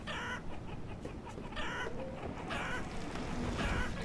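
Chickens cluck steadily in the village-building game Banished, a busy farmyard chorus of overlapping clucks and squawks sounding close and fairly loud throughout.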